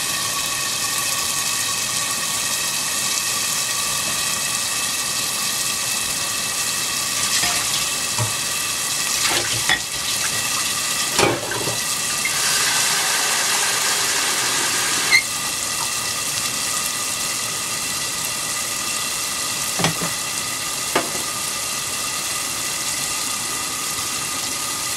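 Pork and ribs pochero simmers and sizzles steadily in a pot, a loud continuous hiss with a few brief clicks and taps of utensils over it.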